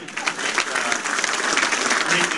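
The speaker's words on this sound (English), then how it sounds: "let's give a round of applause to the Big Macs here" Audience applause at a gathering in Ottawa, a continuous wash of clapping heard up close throughout.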